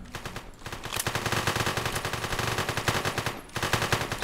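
Rapid automatic gunfire in the bank-robbery video game One Armed Robber comes as dense, rattling bursts with brief pauses, loud and continuous with no talking.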